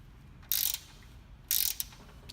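A ratchet tightens nuts on the chain-ring of an EVS EMB Mk2 electric motorbike to about 25 Newton meters, giving two short, close, crisp clicking bursts a second apart over a quiet background.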